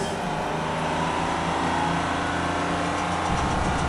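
Steady engine drone of a bus during a ride, a continuous low rumble with a constant hum, loud and uninterrupted throughout with no voices.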